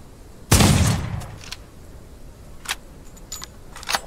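A single loud rifle shot in the video game Outlaws of the Old West, a sharp close blast that rings out and fades, followed by faint clicks and mechanical handling sounds.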